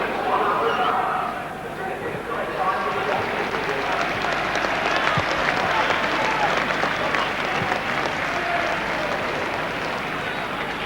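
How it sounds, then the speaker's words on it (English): A football stadium crowd at a Norwich City versus Luton Town match gives a sustained round of applause, broad and distant-sounding, with a commentator's voice talking over it. "Round of applause from the crowd as Robert Allathorne is carried off."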